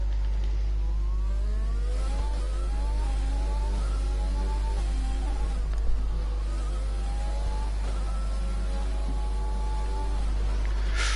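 Ferrari F1 cars in a racing video game at Monaco during out laps, a steady buzzing engine whine with rising and falling pitch sweeps as gears shift, continuous throughout without speech.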